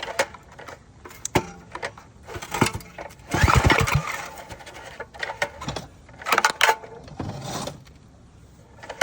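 Repeated pull-start attempts on a small pressure washer engine resting on the floor, each a short loud burst of cranking and whirring cord rattle, close up, separated by clicks and handling sounds.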